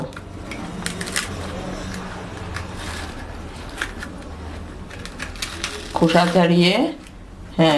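Black palm fruit is peeled by hand, its skin giving off close, crisp tearing and scraping crackles, with a voice speaking over the final seconds.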